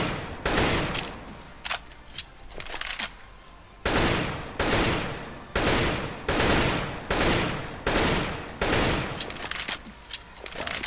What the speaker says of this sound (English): find an empty wall and make sure to shoot and pull down, and make sure the shots land the same spot.